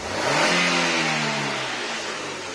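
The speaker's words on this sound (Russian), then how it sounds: "Ну, резко нажми газ" A Chevrolet Cobalt's engine revs hard when the gas pedal is stabbed, the pitch rising quickly and then falling back toward idle, loud and close in a garage, with no talking.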